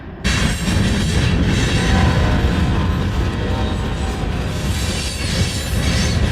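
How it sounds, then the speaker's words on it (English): A long freight train rolls past close by, a loud continuous rumble of rail cars with rhythmic wheel clatter and faint squeal that holds steady throughout. "I never realized until just now just how long those trains are."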